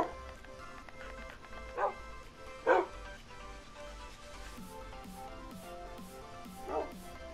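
Several Minecraft dogs bark intermittently at a moderate distance in a video game, a few sharp woofs spaced apart over a soft background hum.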